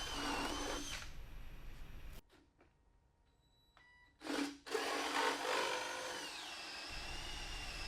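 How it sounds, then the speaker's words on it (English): Power drill boring through a vehicle axle to align with existing frame holes for threaded rod, steady close whine that stops midway, with a short burst before it resumes. "Drilling out through the axle here, so we already had the holes in the frame there."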